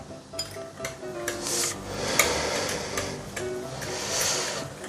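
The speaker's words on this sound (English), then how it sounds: "nicely mix everything together" Ingredients for a Cantonese-style steamed grouper sauce, including dark soy sauce, are stirred together in a bowl or pan, giving a steady scraping and clinking of utensil against the vessel, moderately close, with no talking.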